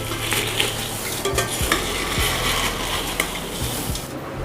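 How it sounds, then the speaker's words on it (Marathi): Cashew pieces stirred while frying in oil in a pan for poha chivda, with a steady sizzle under repeated scraping strokes of a utensil against the pan. "काजूचे तुकडे हे घालून घेते. आता जरा मिक्स करून घेते."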